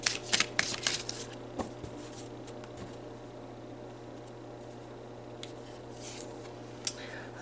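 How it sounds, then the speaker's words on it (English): Tarot cards riffled and laid down in a few quick crisp bursts at the start, then sparse soft slaps and flicks of cards being drawn, close by over a faint steady hum. "let's pull some more cards and see, you know, what other spirits are working with you this life journey"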